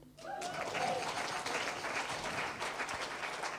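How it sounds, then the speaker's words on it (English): Room full of guests at the Christian Youth Work Awards 2016 breaks into applause for youth workers, a dense, even clapping that swells quickly and stays steady throughout. "We can give that a clap"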